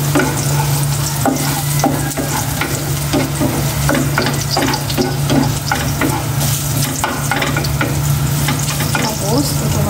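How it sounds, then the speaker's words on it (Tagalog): Garlic sautés in cooking oil with a loud, continuous sizzle and crackle, broken by repeated scraping strokes of a stirring utensil, close up. "Gisa na ako ng bawang."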